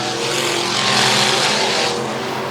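Factory Stock race cars roar around Tulsa Speedway during a heat race, a loud sustained engine drone that swells as the pack passes close and then eases slightly.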